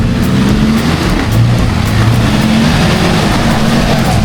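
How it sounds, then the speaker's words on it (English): Car engine roaring under full throttle while driving through an off-road obstacle, a loud, steady low drone that holds strong throughout without easing off. "Put your foot flat to the floor for like the first couple of seconds just to get moving, and then back off."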